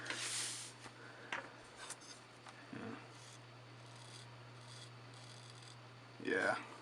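A handmade knife inspired by the Spyderco Warrior shaves hair in a few quiet, brief rasping scrapes, spaced apart against a low steady background hum.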